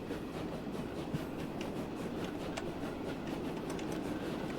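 The Devon Belle steam train heading toward Salisbury in Transport Fever 2, a steady, fairly quiet rumble of rolling wheels with light rhythmic clicks, heard alone without talk.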